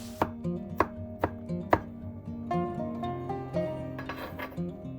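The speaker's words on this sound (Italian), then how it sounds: "Lo tagliamo trasversalmente in fettine sottili e regolari, di circa 1 millimetro o 1 millimetro e mezzo" A knife slices garlic crosswise into thin slices on a board, crisp regular taps at a steady pace, close and distinct against a quiet low hum.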